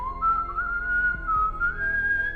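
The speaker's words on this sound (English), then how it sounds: "During this, he hears whistling sounds." A clear melodic whistle holds a wavering tone that rises slightly over a couple of seconds, alone and fairly close, over a low soft background.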